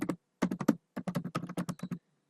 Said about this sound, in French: j'appuie sur le bouton tabulation de mon clavier